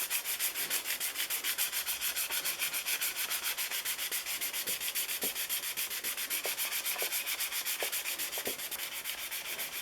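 Hand polishing of a Corsair aircraft canopy, a steady, continuous rubbing swish with an even rhythm, close and moderately loud, with a few faint clicks and no talking.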